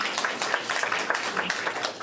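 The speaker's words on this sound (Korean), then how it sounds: "지금까지 긴 시간 저희 종합토론 함께해 주신 5분께 다시 한번 큰 박수 부탁드리겠습니다" An audience applauds at a Seoul youth policy forum, a short burst of dense, steady clapping from a crowd.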